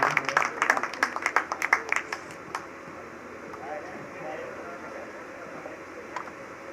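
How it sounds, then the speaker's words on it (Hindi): Audience at a devotional bhajan event at Katesara Dham claps loudly in a dense burst for about two and a half seconds, then the applause drops away to a low room murmur. "जोरदार तालियों के साथ इनका भी स्वागत।"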